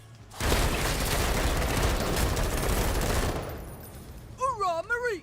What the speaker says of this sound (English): Send it with a brand new rifle.